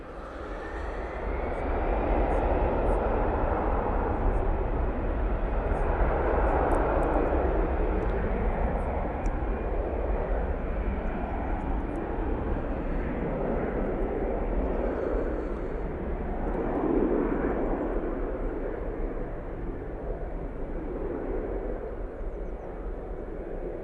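An easyJet airliner takes off for Hamburg with a sustained, powerful jet engine roar that swells and shifts as it climbs away, loud and continuous.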